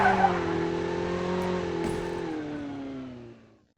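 A vehicle in the Call of Duty Mobile battle royale, its engine note holding steady, then dropping in pitch as it eases off, with a brief tyre skid in the middle, fading out at the end.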